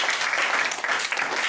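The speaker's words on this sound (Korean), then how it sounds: "맞다면 박수가 나올 거고요" An audience claps through a lecture hall, a dense and continuous wash of many hands that stays loud and close from start to finish, with no talking.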